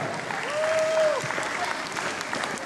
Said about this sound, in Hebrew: מחיאות כפיים, מגיע להם